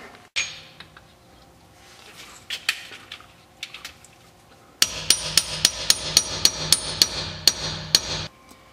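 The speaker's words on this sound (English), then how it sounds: "good 10 minutes of whacking that thing in with the hammer" Hammer tapping a clutch bearing flush while installing a clutch on a 1998-2002 LS1 F-Body, sharp metallic clinks, first scattered, then a steady run of roughly a dozen evenly spaced strikes.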